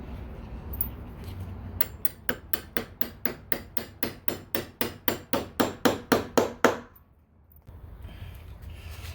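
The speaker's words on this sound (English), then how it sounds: "Okay, we'll put in the carriage bolt." A hammer drives a carriage bolt into a wooden staircase handrail with about twenty evenly spaced, sharp, close strikes that grow slightly louder and then stop.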